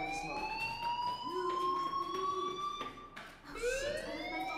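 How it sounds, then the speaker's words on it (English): A fire alarm in the video game Life is Strange wails steadily with rising and falling tones, loud and continuous with no talk over it. "do you hear that fire alarm? That means you should be outside."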